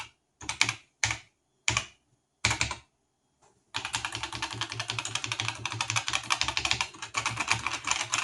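Typing on an Atari XL/XE computer keyboard: a few separate key clacks come first, then a fast, steady run of close, crisp keystrokes, with no voices.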